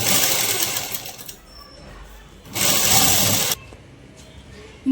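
A sewing machine stitches tucks on the front of a jacket in two loud, steady whirring runs separated by a quieter pause, heard close by.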